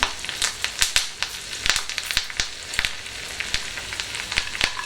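Cashews frying in oil for rava pongal, giving a steady crackling sizzle with sharp pops and clicks from stirring scattered throughout, close and moderately loud with no voices.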